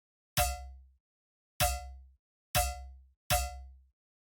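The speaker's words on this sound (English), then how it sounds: "And it all starts with this starting FM layer here" Four evenly spaced hits of a bare FM synthesis layer meant as the base of a metallic snare. Each is a bright, pitched clang with a deep thump underneath, and each rings briefly before decaying.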